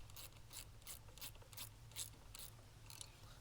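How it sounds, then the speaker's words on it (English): A ratchet tightens a nut on a 1165V stroke limiting collar, giving a quiet, steady series of crisp metallic clicks at an even rhythm over a low background hum. "take your ratchet and a wrench,"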